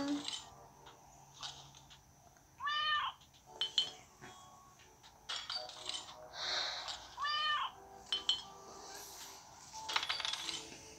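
A cat meows several times indoors, each meow short and rising, with soft clicks and clatter from nearby objects in between.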